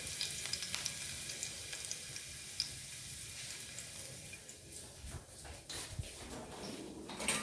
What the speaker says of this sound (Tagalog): ihulog muna natin na mainit na ang mantika. So ihuhulog natin ang bawang